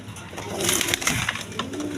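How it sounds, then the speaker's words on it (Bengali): A pair of Rajgolla pigeons, a hen and a cock, coos at close range in a fairly steady run of soft, throaty calls with no talking. "এখানে আরেক পেয়ার রাজগোল্লা কবুতর আছে"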